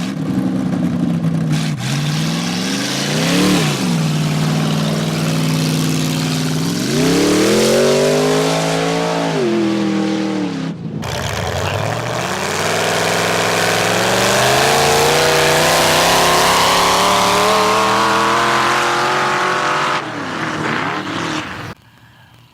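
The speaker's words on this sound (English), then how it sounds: "This is Jack, his father's old race car." An old race car engine at a mud drag race roars loudly and steadily close by, climbing through repeated revs for about twenty seconds and then suddenly dropping away.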